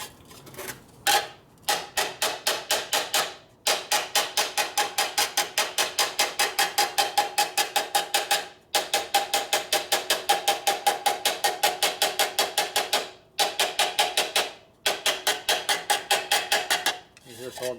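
A hammer strikes steadily and rapidly, with sharp metallic taps in quick regular runs and brief pauses between bursts, during top-end work on a 1958 Harley-Davidson 74ci panhead.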